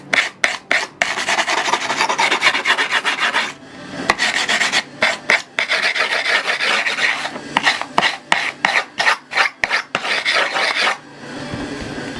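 Rough, rasping strokes of sanding along the edge of skateboard grip tape, coming in quick repeated bursts with brief pauses, loud and close with no talking.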